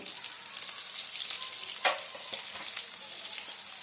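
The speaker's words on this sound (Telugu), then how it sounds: "ఆనియన్స్ వేగుతున్నాయి కదా" Onions fry in a pan for Chettinadu chicken fry with a steady, close hiss and crackle, and one brief louder scrape or stir partway through.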